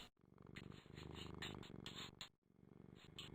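A cat purrs in a flash petting video game, a steady, close, rumbling purr that runs continuously with a couple of brief breaks.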